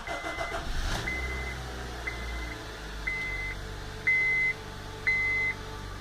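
A Honda Civic engine runs at a steady idle while a dashboard chime sounds five times, each tone spaced about a second apart and growing slightly louder.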